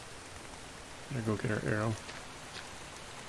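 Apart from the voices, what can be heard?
rain in a video game (The Infected)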